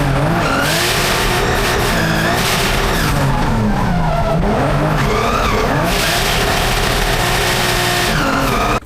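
A drift car slides through a mountain touge course at Calmont during a French drift championship, its tires squealing and skidding continuously over a loud, revving engine, sustained and close.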